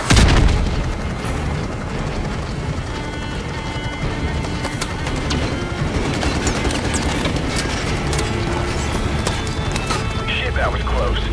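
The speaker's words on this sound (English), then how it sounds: "We've got RPGs down there." Dense battlefield din in Call of Duty Modern Warfare Remastered: a heavy boom opens, then continuous rumbling explosions and rattling gunfire roll on loudly, with radio voices talking over the chaos.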